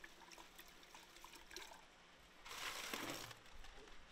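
Water runs and splashes inside a plastic fly trap being rinsed, a faint trickle that swells into a louder gushing splash around the middle before easing back.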